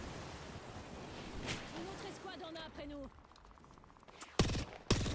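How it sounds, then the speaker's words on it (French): Distant gunfire in the battle royale shooter Apex Legends, faint bursts of shots under a steady wash of game ambience, with a few sharp loud cracks near the end. "Attends, il lui tire dessus, là."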